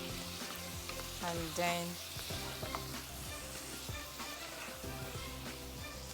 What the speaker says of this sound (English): You can add a bit of the carrots and stir fry. Just give them a simple stir.